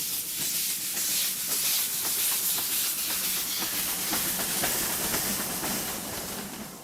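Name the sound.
steam locomotive train running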